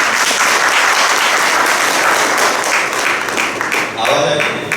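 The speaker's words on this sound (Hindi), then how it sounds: "एक बार ताली बजा" A seated audience at a spiritual study camp session claps steadily and loudly throughout, a dense sustained round of applause that thins slightly near the end.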